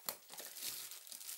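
Bubble wrap packaging around a 1080p sports action camera from AliExpress is unwrapped and crumpled, giving a quiet, continuous crinkling with a few sharper rustles, close to the microphone and with no talk.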